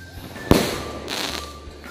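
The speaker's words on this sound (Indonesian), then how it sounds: "kita nyalain mercon roket besar" A sharp crack as a large rocket firecracker ignites at night, followed by a whooshing hiss as it shoots upward, fading over about a second.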